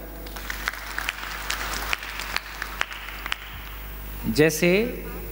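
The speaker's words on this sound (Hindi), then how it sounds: "देखिए बहुत बढ़िया, जोरदार तालियां।" An audience at a spiritual teaching camp session in Rajasthan gives sparse, scattered claps at irregular intervals over a steady hum, then a voice comes in briefly near the end.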